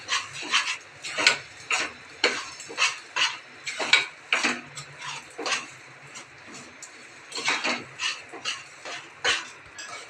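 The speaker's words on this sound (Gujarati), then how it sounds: "1 વાટકી ગોળ અને મિક્સ કરી દેવાનું" Jaggery being stirred into roasted edible gum and flour in a pan, with repeated scraping and clinking strokes of a spoon against the metal, steady and close.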